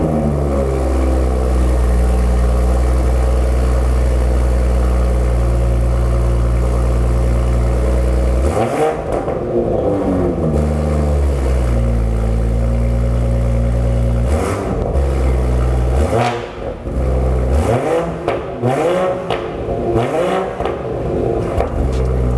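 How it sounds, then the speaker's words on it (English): A BMW G20 M340i with a B58 engine and an AWE exhaust idles with a deep steady drone, then gives several sharp, loud revs that rise and fall, each dropping back to a burbling idle. "BMW G20 M340i with the B58 sounds absolutely incredible"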